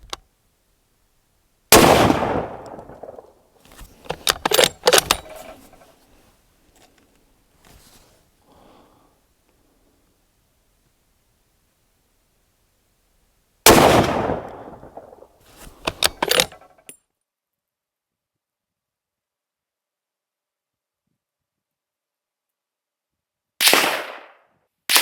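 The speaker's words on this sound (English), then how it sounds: "We've got the target up, and we'll just shoot 5-shot group" Shots from a Barrett 98B Tactical rifle in .300 Win Mag, fired at a 100-yard range: three loud, sharp reports spaced well apart, each followed by brief clatter and handling noise, with long quiet gaps between.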